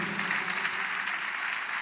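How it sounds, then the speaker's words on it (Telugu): A church congregation at a Hosanna Ministries service claps together. The dense, even patter of many hands fills the room at moderate volume without a break, and no one speaks. "చప్పట్లు కొడుతూ"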